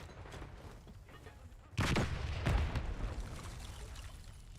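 In the Black Ops 6 video game, a frag grenade goes off as one sudden loud burst, followed by a second blast and a trailing rumble. A quieter gunfire-like crackle comes before it.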